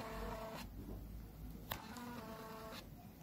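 A thermal printer with a faulty middle section whirs steadily as it prints, a continuous buzzing drone with a few faint clicks; no one speaks.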